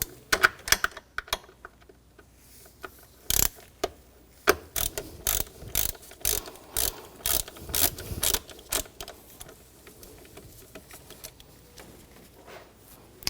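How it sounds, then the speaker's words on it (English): A ratchet fitted with a T30 socket backs a screw out during alternator work on a 2004–2009 Audi A4 Quattro 2.0L, giving a run of close, loud clicks in an uneven rhythm with short pauses, no voices. "T30 socket, take this screw out."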